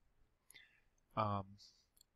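A computer mouse click on a Search button, a few faint, sharp clicks separated by quiet, alongside a brief voiced sound.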